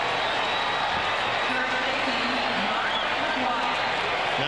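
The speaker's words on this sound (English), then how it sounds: "Crowd charged up" Stadium crowd at a 1998 St. Louis at Milwaukee MLB game roars steadily after a seventh strikeout, a loud, continuous wash of cheering with a broadcaster's voice faintly under it.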